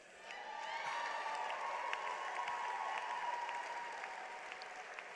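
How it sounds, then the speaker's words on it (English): A graduation ceremony crowd claps steadily, a warm wash of applause that swells at first and then gradually eases off. "give another round of applause"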